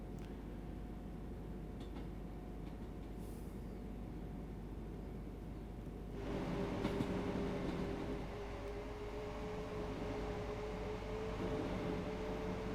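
Train running in Train Sim World 2 on the East Croydon to Redhill route: a steady low rumble with a sustained tonal hum, growing louder and fuller about halfway through, with no voices.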